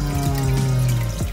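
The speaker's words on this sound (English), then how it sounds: "The lovely sound of a clogged up filter sock." Steady gurgling water with a low droning hum, a continuous sloshing sound close up as water drains through a clogged filter sock into a reef aquarium sump.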